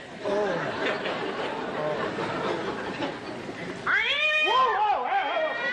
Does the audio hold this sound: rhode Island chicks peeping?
no